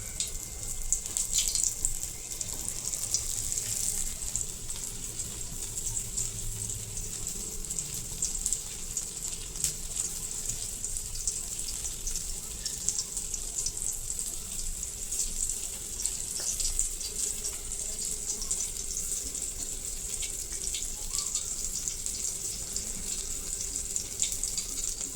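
Steady, bright sizzling of semolina-coated Bombay duck fish frying in hot oil in a pan, continuous and close, with no talking.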